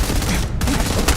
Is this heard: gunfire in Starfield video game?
yes